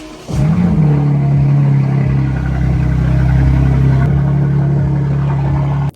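A Mazda car's tuned exhaust roars as the engine revs, starting with a sharp burst then holding a loud, deep, steady drone close by with small throttle fluctuations before cutting off.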